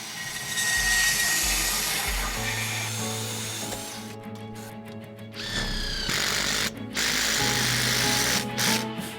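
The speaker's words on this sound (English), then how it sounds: "we're using a little battery operated bandsaw" A small battery-operated bandsaw whirs and cuts through soft aluminum channel on a high tunnel frame, a loud buzzing motor note with the blade's pitch shifting as it bites, stopping and restarting in bursts.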